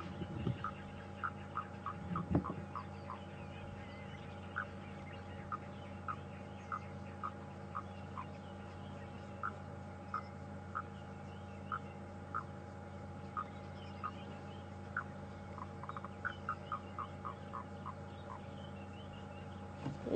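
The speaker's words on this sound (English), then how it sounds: "A foam nest frog, or grey tree frog," Grey foam nest frog calling at dawn in the African bush on a live safari drive, with repeated short croaks spaced through a steady low background hum, faint and distant, no talk.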